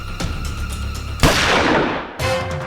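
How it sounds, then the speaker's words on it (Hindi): A single loud gunshot bursts out in a tense TV drama scene, its sharp crack decaying into a long ringing tail, then a second harsh blast cuts in near the end over a low background hum. "अरे गोली चली"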